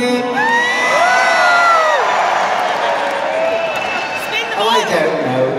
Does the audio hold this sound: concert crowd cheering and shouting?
yes